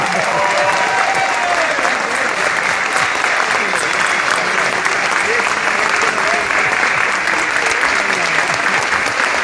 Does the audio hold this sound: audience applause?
yes